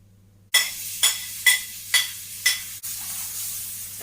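Ginger and onions hit a hot pan with a burst of sizzle, followed by several stirring scrapes at a steady pace and then a settled frying hiss, up close with no talking.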